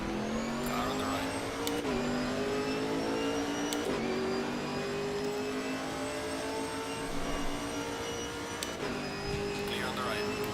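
A Chevrolet Camaro GT4 race car engine in a racing video game at Laguna Seca drones steadily and loudly, its pitch dipping and climbing through gear shifts about every two seconds.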